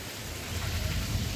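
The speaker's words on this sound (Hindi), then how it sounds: "बहुत ज़्यादा बारिश हो रही है।" Heavy rain pours down steadily outside a home during a downpour, a dense, even hiss of falling water with a low rumbling undertone and no voices.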